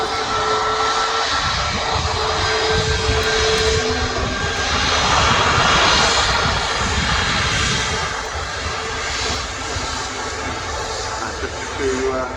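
Emirates Airbus A380 jet engines on a runway give a loud, continuous roar that swells slightly midway and holds steady, while a public-address voice talks over it.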